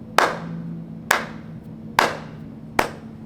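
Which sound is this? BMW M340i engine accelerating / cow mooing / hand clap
hand clap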